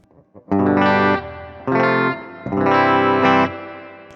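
Distorted chords on a Harley Benton R 457 seven-string electric guitar ring out three times, each held about a second with heavy effects and a full, low-heavy tone, no voices.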